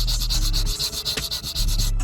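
Hand sanding on a shaved car intake, with close, rhythmic back-and-forth abrasive rubbing strokes that briefly pause and resume.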